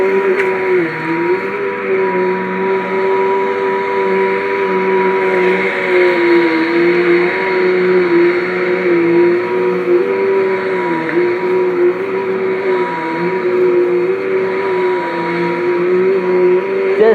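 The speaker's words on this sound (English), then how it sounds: "It takes me about an hour to vacuum this apartment." A vacuum cleaner runs in an apartment with a steady, unbroken motor drone, loud and close throughout.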